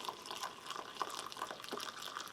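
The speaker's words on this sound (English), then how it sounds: "I'll bring in some hot water" Hot water is poured into a mug about half full with chocolate powder for a kosher MRE drink, a faint steady trickle and splash with soft drips, no talking.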